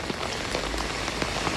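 Heavy rain pours onto surfaces in Okinawa as a dense, steady hiss of drops that holds loud and close throughout, with occasional individual splashes standing out. There are no voices.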